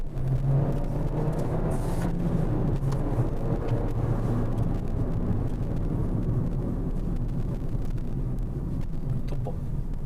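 A Volkswagen Golf 1.4 TSI with a manual gearbox pulls hard under acceleration, its engine a dense, continuous low rumble that holds steady from start to finish, with no talking over it.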